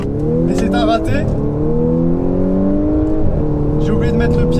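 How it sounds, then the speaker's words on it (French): An Audi S5 revs hard during a launch-control start, its engine note rising loud and close with harmonic sweeps, easing back and building again alongside a Porsche Macan GTS; bursts of crackly high noise and voices sit over the steady engine drone. "on a prévu de se faire un petit launch control S5 contre Macan GTS"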